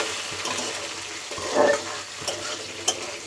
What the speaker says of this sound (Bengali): তো এটা আমি পেঁয়াজটা হালকা একটু নেড়ে চেড়ে আমি এর মধ্যে